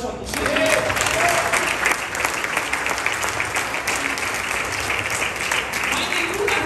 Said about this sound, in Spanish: dale un fuerte aplauso a tu Señor